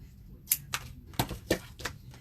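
Scissors snip through paper for a Halloween mini-album, several short, crisp cuts in an uneven rhythm, close and fairly loud, with no talking.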